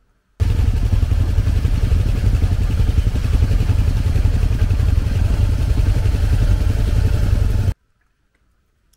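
Motorcycle riding captured from a helmet-mounted camera during moto camping, with a loud, steady engine drone and wind rush running for about seven seconds before cutting to silence.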